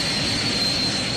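Aircraft engines roar steadily during a takeoff roll, a loud, dense wash of noise with a thin high whine running through it, continuous and unbroken over the brief moment.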